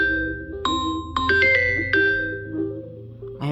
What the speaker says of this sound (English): So here's what Galaxy Bell sounds like with the vibration sync.